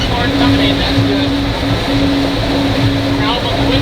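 Gleaner combine harvesting corn, a loud, steady mechanical roar with a droning hum heard from close by, while people talk over it.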